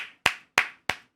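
Four sharp, evenly spaced hand claps ring out alone, each clear and fairly close with a short decaying tail.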